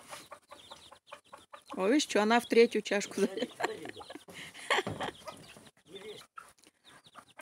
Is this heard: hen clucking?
yes